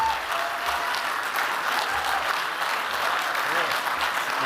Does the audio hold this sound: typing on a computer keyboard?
no